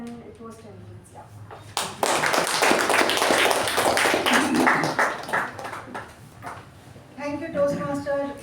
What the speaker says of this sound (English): Huge round of applause for everyone for managing the time.